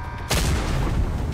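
A single heavy gunshot in the shooter game Iron Horse, a sharp loud blast followed by a long rumbling echo that slowly fades.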